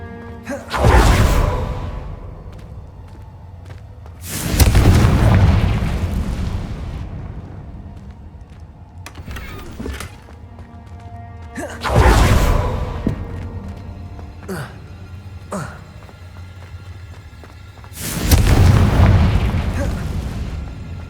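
Confringo explosive spells blasting in Hogwarts Legacy, four loud booming bursts spread a few seconds apart, each swelling and fading with a rumbling tail, while lighter clicks and effects sound in between.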